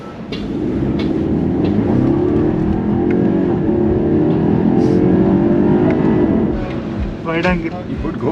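A BMW 530i M Sport 5 Series engine pulls hard under acceleration, a loud continuous rising drone heard from inside the car, with a brief voice near the end.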